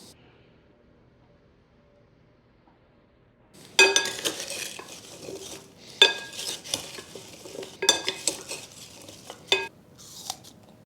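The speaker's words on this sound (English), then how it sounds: "Toss the apples with a tablespoon of sugar and just a wee bit of cinnamon." After a quiet opening, apple slices are tossed with sugar and cinnamon in a bowl, producing a run of crisp clattering and scraping bursts of fruit and utensil against the dish, irregular and close, with no talking.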